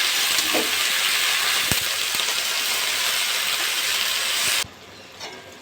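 Steady, loud sizzling of betho leafy greens frying with onion in a pan as they are stirred, a few soft scrapes in the hiss, until the sizzle drops away abruptly near the end.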